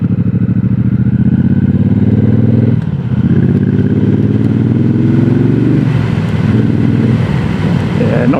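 A 2026 Triumph Bobber 1200 rumbles loudly and steadily while being ridden, its deep engine note dipping briefly twice as the rider changes gear.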